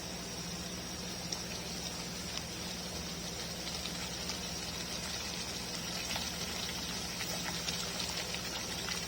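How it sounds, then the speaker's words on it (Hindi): Saffron halwa thickening in a pan with desi ghee, its bubbling a steady low simmer that runs alone and unbroken throughout, with no talk over it. "इसके बुलबुले छूट रहे हैं।"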